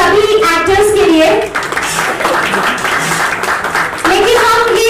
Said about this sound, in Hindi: एक बार जोरदार तालियां हो जाए हमारी सभी एक्टर्स के लिए.